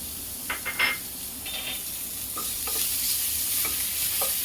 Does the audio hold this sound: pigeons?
no